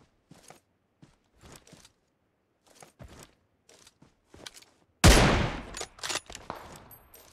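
Gunfire in the mobile game PUBG Mobile: scattered short shots and bursts, then a loud sustained volley of rapid fire near the end.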